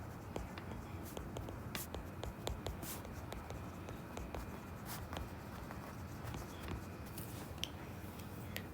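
Pen scratching across paper while chemistry rate equations are written out, faint irregular ticks and strokes over steady background noise.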